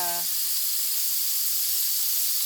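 A knob of butter sizzles in a hot frying pan while beef ramen is being cooked, a steady bright hiss that holds evenly throughout after a brief voice at the start.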